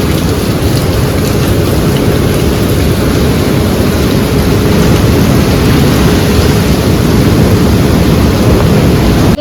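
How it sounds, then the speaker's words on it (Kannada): Heavy monsoon rain pours down in Kannur, a dense, loud, unbroken roar of falling water that fills the whole stretch with no speech. "ಮಳೆ ಬರ್ತಾ ಇರೋದಕ್ಕೆ"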